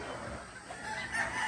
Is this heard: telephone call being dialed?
no